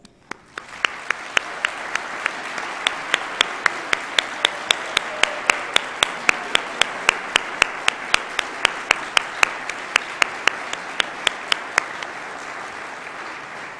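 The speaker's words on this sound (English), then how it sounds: "please stand up so we can all congratulate you with a round of applause" A conference crowd applauds newly accredited land trusts with sustained clapping, while one sharp clap repeats in a steady rhythm above the rest; a voice speaks briefly at the start.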